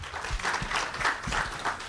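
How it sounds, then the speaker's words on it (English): Audience applause at a water and sanitation sector report launch, a steady, dense patter of many hands clapping throughout, moderately loud and fairly close. "Another round of applause, please."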